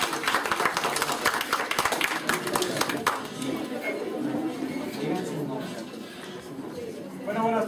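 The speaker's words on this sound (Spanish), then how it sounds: "aplauso." Students in a classroom clap loudly and irregularly for a few seconds, then the applause dies away into murmured chatter and voices talking across the room.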